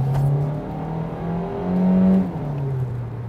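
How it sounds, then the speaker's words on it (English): A Kia Niro pulls away at full throttle, its engine note rising and holding a steady drone with a clear pitch climb midway, heard close from inside the cabin with no talking. "Time to check the throttle response."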